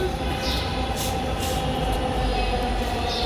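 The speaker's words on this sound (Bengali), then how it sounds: "ওই যে দেখেন মেট্রো আসবে" A metro rail train approaches the station with a continuous loud rumble and brief bursts of hiss and faint squeal above it.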